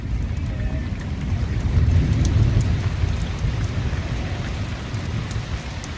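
Heavy rain from a severe storm pours steadily and loudly at close range, with a deep, low rumble swelling in the middle like distant thunder, no voices present.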